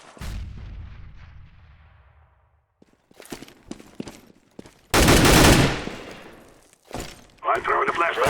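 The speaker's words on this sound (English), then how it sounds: "Grenade out!" A grenade goes off in a CS:GO match, with sharp gunfire cracks and then a loud, broad burst mid-clip, followed by further shots and clattering in the game.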